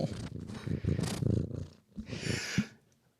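A cat's close, loud purring rumbles along, then breaks into scraping and rubbing noises as it rubs its face against the microphone, with a brief hiss before it quiets.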